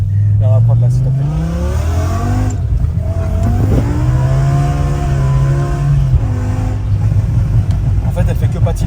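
A car revving hard as its wheels spin and slide on a track, the engine note rising and holding at high revs while people talk over it.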